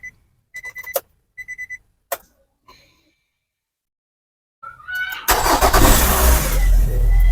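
A used car's engine starts after a few short beeps and clicks, then turns over and settles into a loud, steady idle close by.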